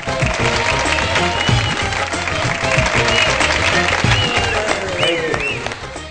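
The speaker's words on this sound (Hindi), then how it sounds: "आप सब लोगों की बहुत सारी तालियों में" Studio audience applause on a Pakistani political talk show, a dense steady wash of clapping that fills the whole stretch at even loudness, with a faint voice beneath it.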